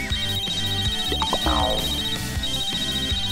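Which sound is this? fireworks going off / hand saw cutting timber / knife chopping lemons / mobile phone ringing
mobile phone ringing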